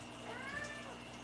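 A pet cat gives one short, rising-and-falling meow, quiet and slightly distant over a low room hum.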